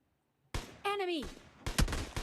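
An SKS rifle fires in an action shooter game: two sharp, loud bursts of gunfire with a short in-game voice callout between them.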